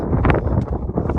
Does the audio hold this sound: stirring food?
no